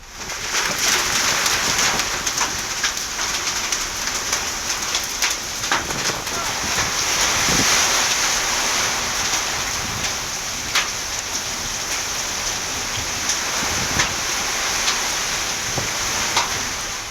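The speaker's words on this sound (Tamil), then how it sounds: "ஒரு மணி நேரத்திற்கும் மேலாக நாற்றம்பள்ளி பகுதிகள் ஆலங்கட்டி மழை பெய்து வருகிறது" Heavy hail and rain falling in a hailstorm around Natrampalli in Tirupattur, a dense, loud and steady patter with scattered sharper impacts running the whole time, no voices.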